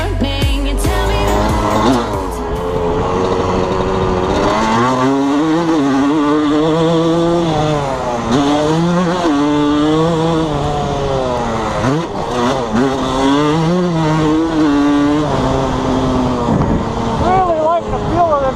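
Suzuki RM125 two-stroke dirt bike engine revving on a track test, rising and falling whine through repeated gear changes, loud and continuous under background music with singing.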